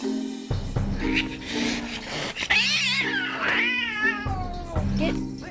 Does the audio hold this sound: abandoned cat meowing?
yes